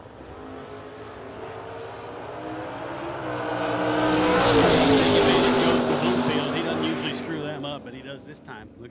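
Drag race door cars, including a Vega, launching and running down the track, the engine roar building to a loud peak mid-clip then fading, with an announcer talking over it.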